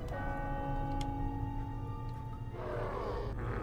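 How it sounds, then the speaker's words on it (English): Bell in Planescape: Torment rings with sustained, layered metallic tones that fade under a low ambient drone, followed by a burst of rougher noise. "Why do those motherfuckers have to ring the bell?"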